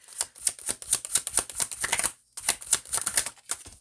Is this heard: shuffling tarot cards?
yes